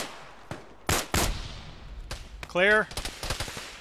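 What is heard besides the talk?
gunfire in Arma video game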